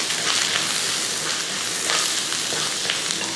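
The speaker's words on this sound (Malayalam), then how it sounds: "നന്നായിട്ടൊന്ന് ഇളക്കി കൊടുക്കുക" Garlic, green chillies and curry leaves fry in a pan for a chicken dish while being stirred. A steady, loud sizzle runs throughout, with soft stirring scrapes on top and no talking.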